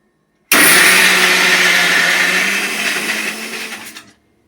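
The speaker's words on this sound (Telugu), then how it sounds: "తెల్లగడ్డలు, అల్లము, పచ్చి కొబ్బరి మిక్సీకి వేసుకుందాం ఒకసారి." A mixer grinder loaded with garlic, ginger and fresh coconut starts abruptly with a loud, close whirring roar, grinds steadily for a few seconds while slowly easing off, then cuts out.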